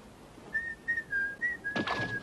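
A person whistles a short tune of clear, sustained high notes near a floating theatre in an animated scene, the phrases coming in a steady series with a brief rustling burst toward the end.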